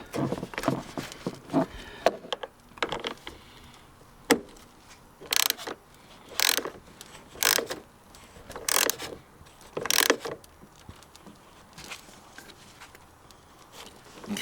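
Wrench or ratchet clicks tightening the negative terminal clamp on a Honda car battery, a series of sharp, close metallic bursts in uneven rhythm with brief pauses between them.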